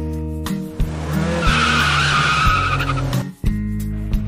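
A car skids in the Sakura School Simulator game, a loud tire squeal lasting about two seconds over a running engine hum, with no talk.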